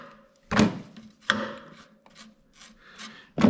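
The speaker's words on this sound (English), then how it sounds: "The first step is to loosen up the drain plug right here on the bottom of the oil pan." Loosening the oil pan drain plug on a BMW R50/2 motorcycle: a few separate scraping, rasping wrench turns close by, each short and fairly loud, with quiet gaps in between.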